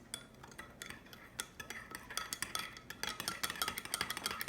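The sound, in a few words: spoon stirring yeast and sugar in a bowl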